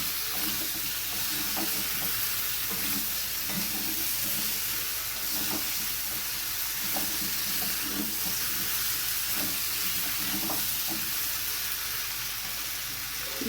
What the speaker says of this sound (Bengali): ফুলকপি আলুটা দিয়ে আমরা আমি মশলার সঙ্গে ভালোভাবে মিশিয়ে নিচ্ছি